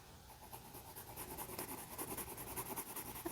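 A pencil scratches across paper in a run of quick, faint, rhythmic strokes, close up and quiet, while an apple is sketched in a children's art lesson.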